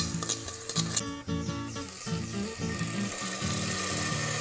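Garlic sizzles in a hot pan while chicken in blood sauce is being made, giving a steady close frying hiss with faint stirring clatter throughout.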